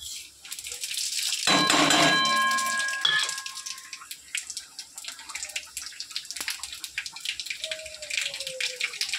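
A sharp sizzling crackle bursts out as whole spices, including broken dried chilli and two bay leaves, hit hot oil, then settles into a steady spitting fry with faint clinks.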